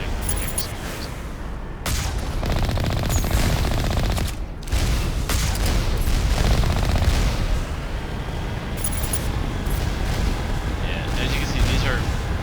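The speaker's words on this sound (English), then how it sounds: "These turrets fire like ridiculously crazy." Turrets in Mass Effect pour out sustained, dense, loud gunfire that keeps going almost without a break, with only a few short pauses.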